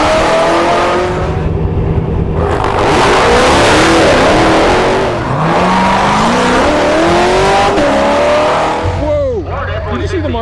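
Paxton-supercharged Corvette C7 drag racing a Tesla Plaid, loud close engine roar with rising revs and gear changes over a quarter mile, ending in a final rev sweep; excited talk is mixed in.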